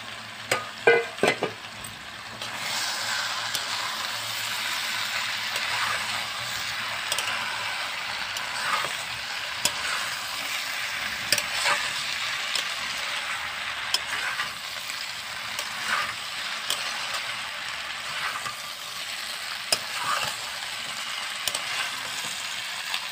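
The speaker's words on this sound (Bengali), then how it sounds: "এবার ভাজা ডুমুরটা দিয়ে একটু কষিয়ে নেব" Spice paste and fried figs are stir-fried together in a pan. A steady, close hiss of sizzling oil runs throughout, with occasional scrapes and light clinks of the stirring spoon.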